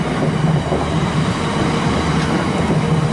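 A long train of many wagons rolls past close by, its heavy rumble and wheel clatter running continuously with no voices.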